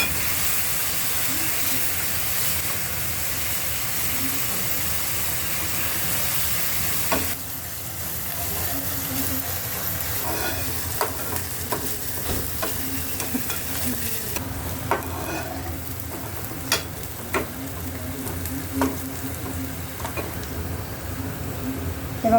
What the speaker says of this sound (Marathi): आता कांदा चांगला लालसर झाला तर त्याच्यात टाकणार मी टॅमॅटो.